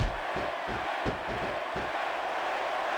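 A capacity crowd roars in a wrestling video game, a dense steady wall of arena cheering with a few low thuds underneath.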